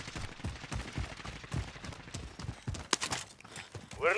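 Gunfire in Call of Duty: Modern Warfare Warzone, heard as a run of short, sharp shots at an uneven pace with a louder cluster of cracks near the end, mixed with other game noise and no talk.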